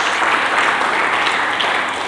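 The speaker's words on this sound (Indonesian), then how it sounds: "Mari berikan tepuk tangan bagi Yesus Kristus" Church congregation applauding during a sermon, a dense, steady wash of many hands clapping at close range, loud and unbroken throughout with no voices over it.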